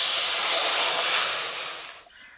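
Water poured into a hot wok after frying soybean pakoras sends up a loud, close, continuous steam hiss that slowly fades and cuts off near the end.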